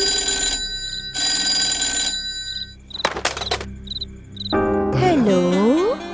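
A telephone rings in short repeated trilling bursts indoors in a film scene, its rings alternating with brief gaps before a swooping electronic tone at the end.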